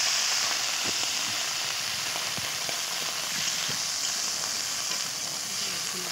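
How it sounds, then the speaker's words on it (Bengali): Cauliflower pieces fry in hot oil in a wok, giving a loud, even, continuous sizzle with scattered faint pops and crackles throughout. "ফুলকপিগুলো একটু ভাজা করে নেবো"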